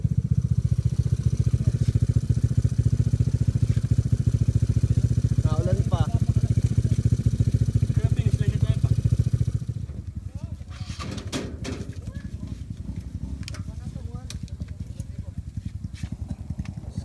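Skygo 125 and Euro 125 carbureted motorcycle engines, one 65mm and one 64mm bore with big valves and racing cams, drone loudly and steadily at a racing event in Mindoro, then the roar drops to a lower running note with voices and other noise around.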